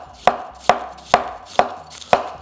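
A knife finely chops cabbage on a cutting board, five sharp evenly spaced strikes through crisp vegetable, close and clear with no talking.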